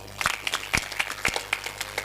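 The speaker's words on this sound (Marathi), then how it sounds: "एकदा टाळ्या वाजवा." A kirtan audience claps together in a steady rhythm, with about eight fairly even, close-sounding claps over a short, lively stretch.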